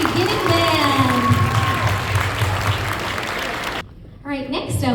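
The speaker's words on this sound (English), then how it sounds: "Let's give one more round of applause for our 6th grade beginning band" Applause for a 6th grade beginning band at a school spring concert, a broad wash of clapping from the audience that fills most of the clip, then fades as voices and cheers come through near the end.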